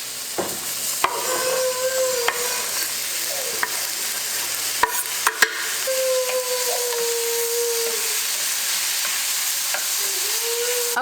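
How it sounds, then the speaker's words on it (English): Ground beef fries in a pan for lunch with a steady, close sizzle, broken by occasional sharp clicks and scrapes of stirring, and no talking. "Okay, so our lunch is cooking. I already threw in the meat."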